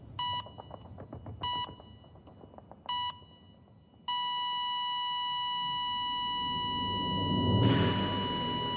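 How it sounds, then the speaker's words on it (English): Three short electronic beeps in quick succession, then a sustained steady tone that holds loudly to the end, with a low rumble swelling underneath. "that sound effect of that beep"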